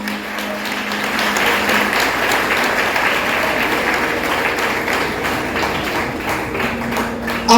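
An audience at a diploma ceremony breaks into sustained, dense applause, many hands clapping steadily for several seconds at moderate loudness, with a hint of crowd murmur beneath.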